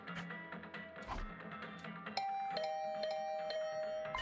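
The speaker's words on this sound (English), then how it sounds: "I was brought back to the land of the living by the unrelenting ringing at my doorbell." A doorbell rings in the video game The Hundred Line: Last Defense Academy, with soft chime tones giving way to a brighter, sustained ding-dong that repeats several times, clear and alone with no talking.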